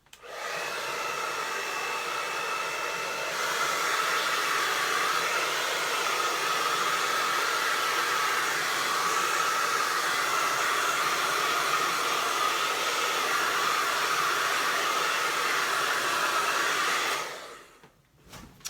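A handheld hair dryer blows steadily to dry fresh acrylic paint on a bluebonnet and grass painting, a loud continuous whir running unbroken for about seventeen seconds before cutting off abruptly.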